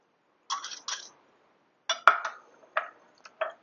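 Sugar, cornstarch and spices stirred in a bowl: faint scattered clinks and scrapes in short bursts, separated by near silence.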